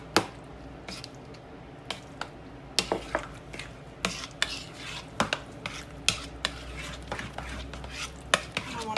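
A spoon stirs stuffed-shell filling with sausage and cheese in a bowl, giving repeated quick scraping clacks at an irregular rhythm over a low steady background, close and fairly loud.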